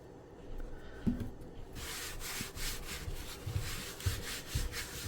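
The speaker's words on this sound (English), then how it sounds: "we come back and rub that flour into the little seams here" Hands rub flour into the seams of very wet, 100% hydration sourdough bread dough, giving soft, close, dry brushing and scuffing with a few light taps, quiet and without talk.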